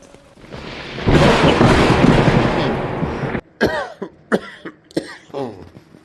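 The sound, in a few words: cough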